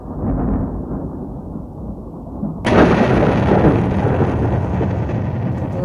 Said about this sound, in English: Lightning has struck nearby, resulting in a shutdown of the production line.